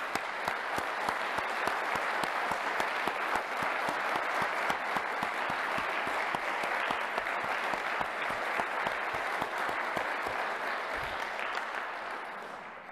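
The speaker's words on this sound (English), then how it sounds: "Mr. Hardy, please stand and let's give him a round of applause." An audience gives Mr. Hardy a long, even round of applause, a dense wash of many hands clapping at steady strength for over twelve seconds before it starts to thin out.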